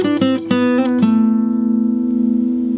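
A guitar plays a short lick from the melodic minor scale: a few quick picked notes, then one held note that rings on and slowly decays, heard alone and close.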